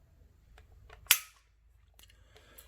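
Springfield Armory Hellcat micro compact pistol dry-fired against a trigger pull gauge: one crisp metallic click stands out in near-silence, with a few faint ticks and handling noises around it.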